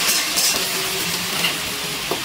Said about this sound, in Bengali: গ্যাসের ফ্লেমটা মিডিয়ামে রেখে সবজির সাথে পালং শাকটা একটুখানি নাড়াচাড়া করে নিয়েছি।